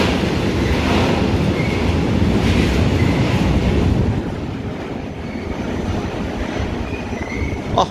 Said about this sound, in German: Gerade raus fährt schon direkt so ein Güterzug